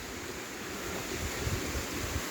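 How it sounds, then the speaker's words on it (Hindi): A mountain waterfall pours steadily, a dense unbroken rushing roar of falling water, close and loud with no talk over it. "ये देखो यहाँ से झरना आ रहा है"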